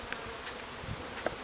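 Honeybees at a hive in rain and irrigation spray, a faint, steady buzz with a few brief louder passes of individual bees near the microphone.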